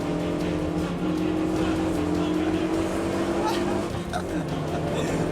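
An Audi four-wheel-drive hot hatch accelerates on a racing circuit, its engine droning steadily with a slowly rising tone, heard from inside the cabin, with a brief dip near the end.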